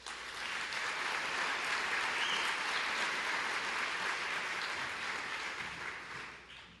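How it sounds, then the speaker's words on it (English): Audience applause for a city commissioner at the Orlando Mayor's State of the City 2023 event, a full, sustained roar of many clapping hands that holds steady for several seconds before easing off. "it's appropriate to go ahead and applaud for every one of them"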